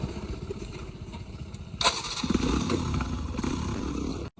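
A motorcycle starts with a clatter and then revs steadily nearby as it is ridden off, following a stretch of low idling rumble, before stopping abruptly.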